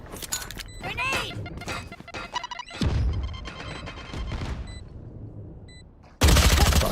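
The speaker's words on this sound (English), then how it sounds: "Grenade!" A grenade explodes in the Valorant shooter game, landing as a heavy low boom amid rapid gunfire, with a second loud blast close by near the end.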